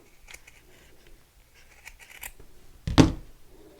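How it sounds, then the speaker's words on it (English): Scissors give a single sharp snip through a piece of yarn while a crochet amigurumi snowbird or owl is being finished, loud and close against a quiet background with faint handling noise before it. "I'm just going to snip this part off"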